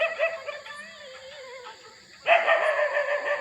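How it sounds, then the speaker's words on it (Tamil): A dog barks at night with whining, drawn-out yelps, one softer burst followed by a louder one, from a moderate distance. "ஆனால் நாய் மட்டும் குலைக்குது காய்ஸ்."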